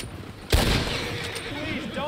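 Gunfire in Red Dead Online, a sharp shot or burst striking loud and close before a noisy rumble of further shots and game sounds that runs on under faint voices.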